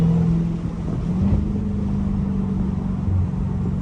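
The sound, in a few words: Dodge Hellcat spinning its tires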